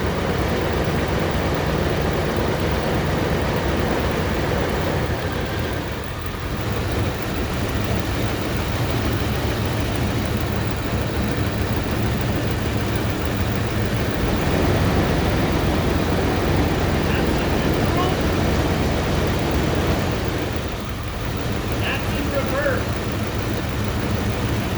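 A 5.2L engine running with a rough idle while in drive with the brake held, a steady loud low rumble and drone that persists throughout with slight dips.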